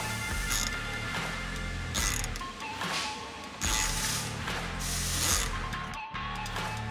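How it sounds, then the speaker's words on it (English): A thread forming screw is driven slowly into a freshly drilled hole on a Polaris Xpedition ADV rear bumper bracket, giving a continuous grinding, ratcheting mechanical whir with brief pauses, close and fairly loud. "you'll use your thread forming screw to place threads in the holes you just drilled"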